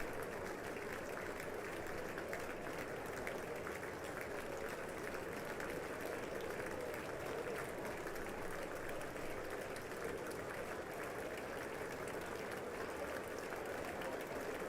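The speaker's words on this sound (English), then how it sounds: "they're going to clap a little harder" Audience applause at the State of the Union fills the room as a dense, continuous roar of clapping with a crowd murmur, steady and loud throughout.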